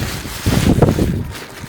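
Strong wind outdoors while camping on a trip around Australia, gusting hard into the microphone with a loud rumbling buffet that swells in the middle and eases off.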